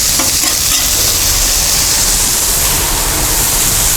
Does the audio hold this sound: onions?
yes